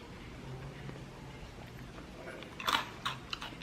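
Crunchy barbecue-flavored corn snack being bitten and chewed up close, a few crisp crunches clustered near the end over a quiet background.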